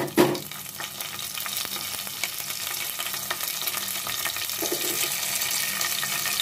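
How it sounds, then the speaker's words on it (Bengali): Raisins of two kinds and pistachios fry in a pan for dry sweet vermicelli, giving a continuous close sizzle with scraping stirs and a small knock at the start. "আমি 2 ধরনের কিশমিশ দিয়ে দিলাম, এবং আমি এটা ভালো করে ভেজে নিব"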